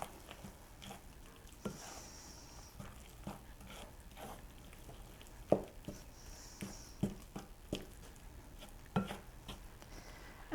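A spoon stirring chopped green onion into thick cornbread batter in a bowl, giving soft wet scraping and sticky thuds with a few sharp clinks against the bowl, close and fairly quiet, without talk.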